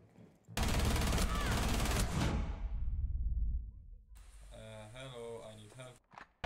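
Heavy, sustained bursts of gunfire in a shooter video game, loud and dense for a few seconds, then fading into rumbling reverberation before a voice-like tonal sound takes over.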